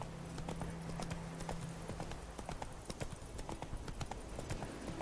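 Hooves of Geralt's horse Roach in The Witcher 3 clip-clop in a quick, steady rhythm over outdoor ambience, close and moderately loud, with a brief voice.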